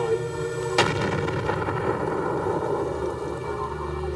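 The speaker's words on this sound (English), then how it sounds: "These explosions create fire breaks they hope will divert the path of the flames." A sharp, loud blast hits suddenly, then a deep rumbling roar rolls on and on, like a long chain of detonations echoing outdoors, as an explosive cable detonates to cut fire breaks during the 1988 Yellowstone fires.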